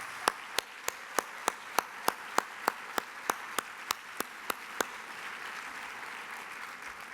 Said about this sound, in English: Let's give all of our finalists a big round of applause.